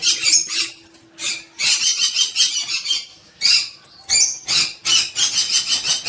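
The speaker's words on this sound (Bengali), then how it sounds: "লাভ বার্ড, টিয়ে, নানান ধরনের পাখি" Parrots and lovebirds in a park aviary squawk and chatter in loud, harsh bursts, many calls overlapping in irregular clusters with short pauses between.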